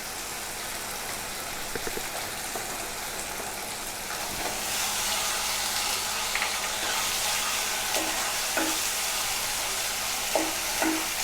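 Ginger-garlic paste frying in hot oil for Bengali chola bhuna, a steady close sizzle with sharp clicks and scrapes of a spoon stirring toward the end, with no one speaking.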